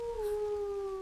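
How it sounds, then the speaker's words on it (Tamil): A wild animal's single long, drawn-out howl on a mountain at dusk, holding a steady, slightly wavering pitch, heard alone and fairly close for about a second. "காட்டு விலங்குகள் வேற சத்தம் போடுது."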